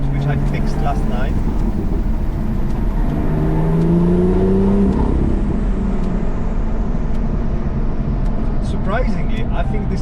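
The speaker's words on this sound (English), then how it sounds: "Hear the exhaust, which I fixed last night." Car exhaust note on a drive through the Alps, a recently repaired exhaust giving a steady droning engine hum with rising revs midway, continuous throughout, with people talking over it.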